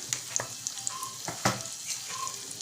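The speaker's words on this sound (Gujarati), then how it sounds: "અને એને આપણે હલાવી લઈશું ચાલુ કરીને થોડોક શેકી લઈશું" Salt, red chilli and turmeric stirred and roasted in a pan for dal, giving a soft sizzle with scattered scraping strokes of a spoon, close and fairly quiet.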